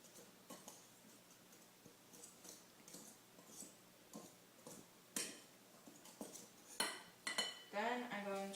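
A utensil clinks and scrapes in a dry bowl as cumin, salt, garlic and sugar are mixed, in soft, irregular taps that grow louder toward the end, followed by a short stretch of voice.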